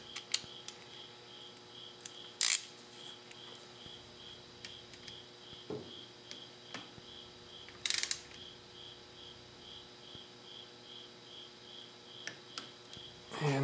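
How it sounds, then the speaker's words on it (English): A torque wrench tightens the drain plug on a 2009 Kawasaki KLR motorcycle, giving a few faint, sharp clicks spread apart against a quiet, steady workshop hum. "I've got my torque wrench here."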